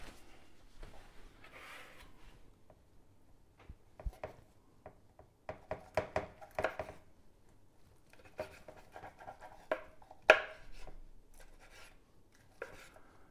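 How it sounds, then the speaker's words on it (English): A knife slicing smoked beef ribs on a cutting board, quiet scattered cuts and taps in irregular bursts with soft rubbing between, close and faint, no talk. "let's slice these up"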